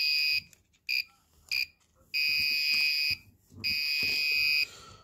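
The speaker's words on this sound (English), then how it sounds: "There's no need to use more than one buzzer" An electronic buzzer driven by mBlock sounds in repeated bursts, a few short beeps then longer steady tones, with faint talk in the gaps.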